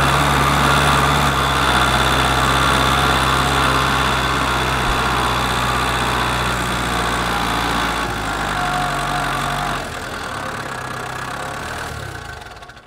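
A diesel engine in a runaway condition roars loudly and continuously, holding a dense, steady drone before dropping slightly in level and fading near the end.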